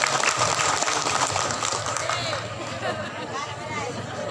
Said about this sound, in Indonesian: Tepuk tangan buat peraman Ampalo.